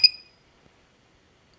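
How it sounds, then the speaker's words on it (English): An FPV quadcopter's Baseflight flight controller gives one short, sharp electronic beep as it arms, clear and close, then falls silent. "you push this up, you'll hear it start beeping, like that"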